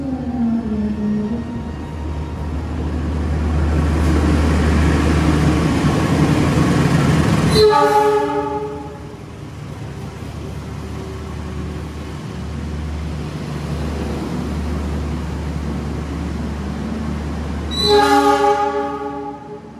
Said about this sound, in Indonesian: Argo Lawunya siap masuk